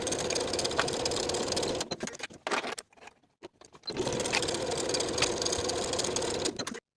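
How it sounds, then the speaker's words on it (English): Sewing machine stitching the shoulder seams of a knit fabric boxy tee, a steady, close mechanical whir in two long runs separated by a brief pause with scattered clicks. "Sew with a 3/8 inch seam allowance."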